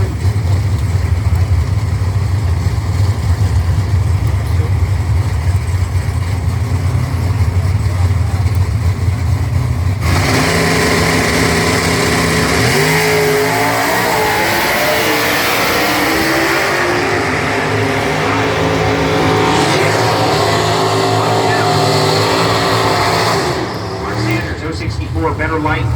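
NHRA drag racing cars at Lucas Oil Motor Speedway in Indianapolis, a loud idling roar that bursts into a harsh, sustained launch and run down the strip, with announcer talk over the engines.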